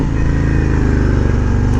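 A 2020 Harley Davidson Road Glide Special with a 114 cubic inch engine rumbles loud and close while riding, a steady low pulsing V-twin throb with no pauses.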